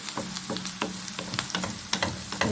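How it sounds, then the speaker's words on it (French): Onions and bell peppers fry in a pan as a steady, close sizzle, broken by several sharp stirring scrapes and clicks at irregular intervals, with no voices. "revenir les oignons et les poivrons juste légèrement"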